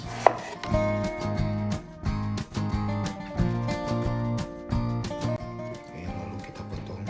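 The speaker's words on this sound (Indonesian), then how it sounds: "Oke, lalu kita potong." A knife chopping peeled purple eggplant on a board, a rapid run of sharp, close knocks in steady bursts, with a few brief pauses and a clatter near the start, and no talking.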